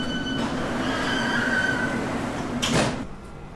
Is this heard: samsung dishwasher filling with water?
no